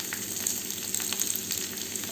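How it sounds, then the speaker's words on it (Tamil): Small onions frying in coconut oil for a tempering give a steady, dense sizzle close by, with light crackles scattered through it and no voices. "நல்லா சின்ன வெங்காயத்தை முருக விட்டு தாளித்து எடுத்து சேர்த்திங்கன்னா"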